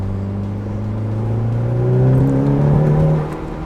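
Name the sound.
Mitsubishi Evo car driving under boost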